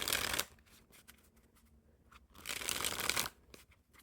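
Playing cards are riffled and shuffled close up, two quick bursts of crisp fluttering separated by a quiet pause.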